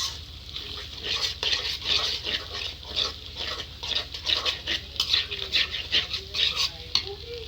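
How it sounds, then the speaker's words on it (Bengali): Eggs are stirred vigorously in a pan while pasta is being made, giving rhythmic, repeated scraping and swishing strokes over a steady frying sizzle, close and fairly loud throughout. "ডিমগুলো দিয়ে আমি ভালোভাবে নেড়ে নেব।"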